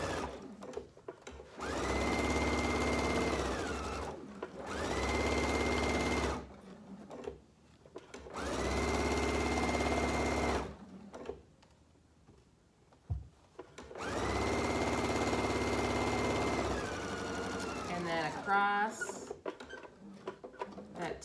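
An electric sewing machine stitches a market bag up to the top band in four separate close runs of high motor whine and needle chatter, broken by pauses where someone talks briefly.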